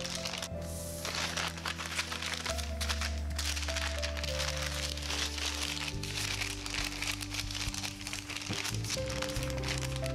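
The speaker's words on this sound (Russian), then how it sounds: "Лист бумаги подходящего размера прижать к углам формы для четкого обозначения." Baking parchment is pressed and creased into the corners of a baking pan, with soft crinkling and crackling over a constant hum and tonal background sound.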